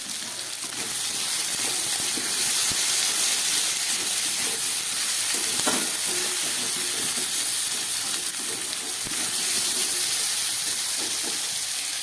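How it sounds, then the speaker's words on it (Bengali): Potatoes and onions frying in a pan with salt and turmeric added for a spicy small tangra fish curry, a loud continuous sizzle and hiss with a few clinks and stirring scrapes. "আলু পেঁয়াজটা অনেকটা ভাজা হয়ে গেছে, দিয়ে দিচ্ছি পরিমাণ মতো নুন, আর দিয়ে দিচ্ছি পরিমাণ মতো হলুদ।"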